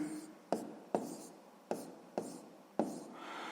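A pen or pencil writing down a sixth-grade math exercise, five or six sharp taps and short scratching strokes at a close, quiet level.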